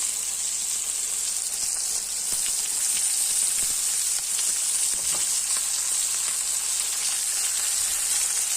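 Tomatoes go into a hot pan for a karela (bitter gourd) curry cooked over a gas cylinder burner, producing a steady, even sizzle with a few faint stirring taps and no talking.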